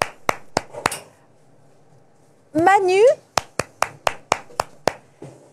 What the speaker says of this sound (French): Alors je vais applaudir, je vais être seule